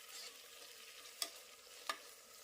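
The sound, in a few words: tomatoes frying in a pan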